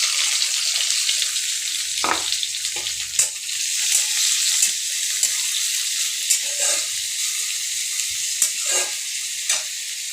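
Chopped onion, tomato, garlic, chilli and ginger sizzle steadily in hot oil over cumin seeds already fried red, a loud continuous crackle with a few sharp stirring scrapes and clinks near the pan.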